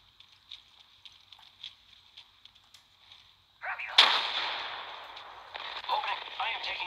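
Gunfire in the video game Apex Legends: quiet scattered shots, then a sudden loud burst of firing with a ringing decay, followed by more heavy shots, with game radio sounds.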